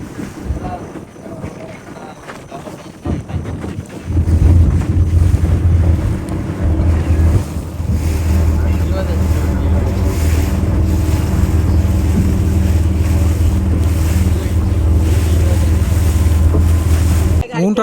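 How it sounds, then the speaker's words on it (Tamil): Two boats race on the open sea off Point Pedro in Jaffna: a loud, steady engine drone swells after a few seconds and holds, mixed with heavy wind buffeting and the wash of waves. "இதில் 2 படகுக்கு சரியான போட்டி நடந்து கொண்டு இருக்குது."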